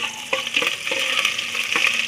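Garlic and onion sauté in a hot pan, a close crackling sizzle broken by quick scraping strokes of a spoon stirring at a brisk, uneven rhythm.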